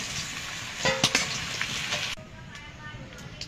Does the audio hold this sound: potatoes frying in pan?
yes